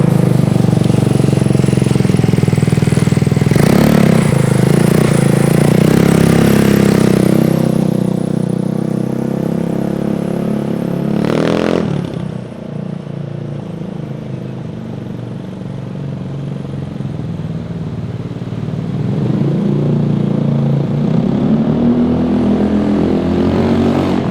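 A 150cc GY6 tandem scooter engine runs steadily and loud and close, a throaty drone with a couple of sharp blips of throttle and a brief dip midway before the revs rise again.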